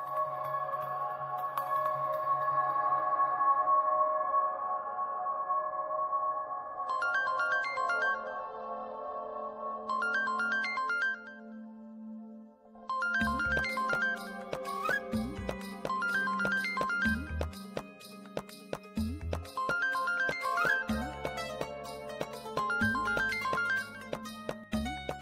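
A mobile phone ringtone rings in a home scene from a Marathi TV serial: a melodic, repeating electronic tune that plays on and on, loud and close, with no speech over it.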